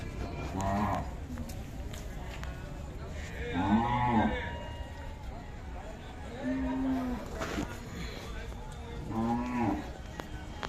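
Cows at the Sangola cattle market moo repeatedly, four or five drawn-out calls spread through the scene, some near and some farther off, over crowd noise and nearby talking.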